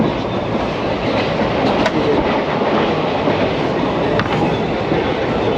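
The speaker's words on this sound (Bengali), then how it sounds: "ট্রেন তার প্রথম স্টেশন ঢুকে গেছে নৈহাটি" A passenger train running on rails from Kolkata toward NJP, heard from inside as a steady loud rumble and rattle with faint clicks of the wheels over rail joints.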